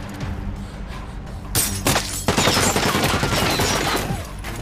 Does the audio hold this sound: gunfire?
yes